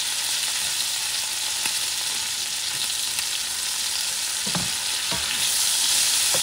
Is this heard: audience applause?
no